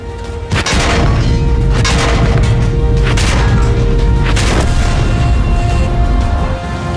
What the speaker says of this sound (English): And a great loss of durability sounds like this.